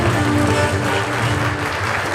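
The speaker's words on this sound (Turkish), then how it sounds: "Büyük bir alkış lütfen." Loud, dense applause from an audience at a Turkish music awards ceremony, sustained for a couple of seconds.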